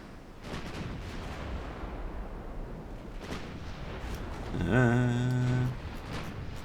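Warship artillery guns fire in a naval video game set in a Japanese dreadnought campaign: a few heavy booms over a steady rumbling background, followed by a brief rising tonal whine.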